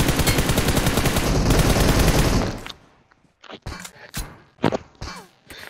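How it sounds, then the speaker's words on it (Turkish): Heavy automatic gunfire in a video game, a dense continuous burst for over two seconds, then scattered sharper single shots and impacts after it cuts off, with no talk. "Arkadan sıkıyorlar."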